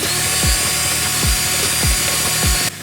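A Dremel rotary tool grinds steadily at high speed while enlarging holes in a carbon fiber fender for a 2022 11th-gen Honda Civic, with a continuous whine and short rhythmic dips as the bit bites into the material.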